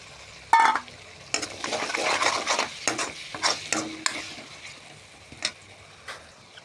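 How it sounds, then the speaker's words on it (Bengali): Chicken curry with garlic paste being stirred in a pan, spoon scraping and clinking against the metal in irregular strokes over a soft sizzle, fairly close and without speech. "তারপর দিয়ে দেব রসুন বাটা দিয়ে নাড়তে থাকবো"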